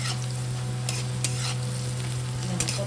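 Onions frying in a pan give a steady, even sizzle with a few faint stirring scrapes, close and continuous with no talk.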